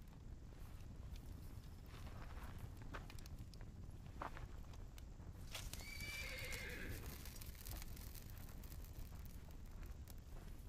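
A horse whinnies in a rising, drawn-out call midway through while hooves thud and clop unevenly nearby, all over a constant rushing background noise.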